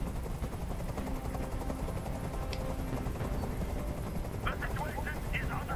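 A loud, continuous helicopter rotor rumble in the video game Detroit: Become Human fills the whole stretch, with scattered popping bursts and faint muffled voices mixed into the din.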